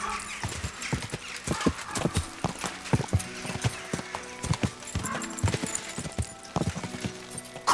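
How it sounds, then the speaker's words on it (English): A horse's hooves clip-clop at a steady walking pace in the Kingdom Come Deliverance II video game, close and clear, with a brief whinny and faint background sounds. "Easy, good horse."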